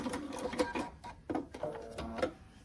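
A sewing machine stitches a blue quarter-square triangle onto the side of a quilt square, with quick bursts of needle clatter in short runs that stop and start, close and fairly quiet.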